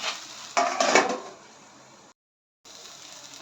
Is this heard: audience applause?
no